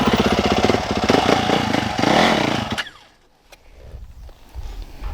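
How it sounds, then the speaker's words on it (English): A Yamaha YZ450FX four-stroke dirt bike engine revs loud and close with a raw, buzzing roar for nearly three seconds, then cuts off abruptly into quiet idle and faint background noise. "raw 4-stroke sound"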